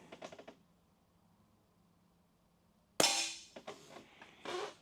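A single sharp shot from an AirVenturi Comp10 10-meter .177 air rifle fired indoors, a sudden crisp crack after quiet, followed by brief clicks and mechanical handling noises.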